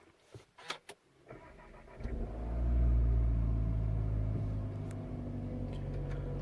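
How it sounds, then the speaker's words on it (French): A 2020 Cupra Ateca starts from its push button: a few soft clicks inside the cabin, then the engine cranks, catches with a rising rumble and settles into a steady, fairly loud idle. "en appuyant dessus, le véhicule va s'allumer"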